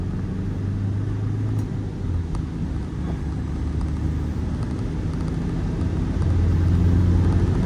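Toyota Sport Rider 2.5 D4D diesel pickup, 4x4 with manual gearbox, pulling away in first gear: a loud, close, steady low engine drone that swells slightly near the end, with no talk.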